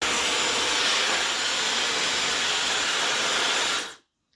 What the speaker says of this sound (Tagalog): Patutuyuin ko muna yung aking hair using yung ating Dyson Supersonic na hair dryer.